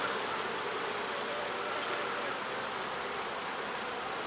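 Honeybees flying around a hive, a dense steady buzzing hum from many insects, close and continuous, with no voices.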